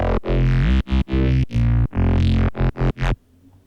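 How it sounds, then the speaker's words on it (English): A Neurobass synth patch built in Phase Plant 2 plays alone as loud, distorted bass stabs in a choppy rhythm of about nine short bursts, ending in a brief quiet tail. "inside this Neurobass patch that I made also on that stream"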